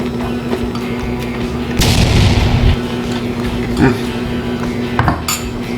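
A spoon scrapes and clinks against a dish while scooping shrimp and grits in sauce, giving a few sharp metallic knocks close by over a low background hum.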